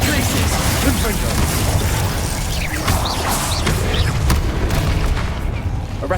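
Confringo fire spell exploding during Hogwarts Legacy combat: dense, continuous booming and crashing that stays loud throughout, with voices over the blasts.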